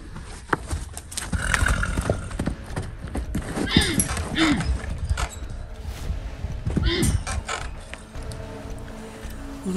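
A horse moves about a barn with clip-clop hoof sounds and a neigh partway through, mixed with clanking and mechanical rattles, while people talk in the background.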